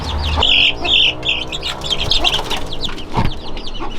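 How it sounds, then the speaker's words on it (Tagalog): Three-week-old purebred Rhode Island Red chicks in a brooding pen peep with high, busy chirps that overlap continuously at close range, with a few soft rustles beneath. "Sasama ko itong 3 weeks old na pure na Rhode Island Red."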